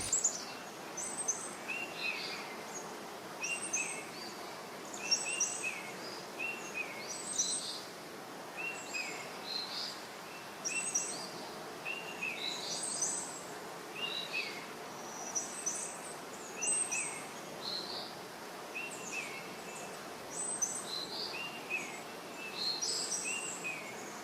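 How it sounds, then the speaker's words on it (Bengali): Various birds calling on an early morning near water beside a tea garden: steady, evenly repeated high chirps and tweets over a faint background hiss, with no talking. "শুধু শোনা যাচ্ছে জলের ছলছল আওয়াজ আর বিভিন্ন পাখির ডাক।"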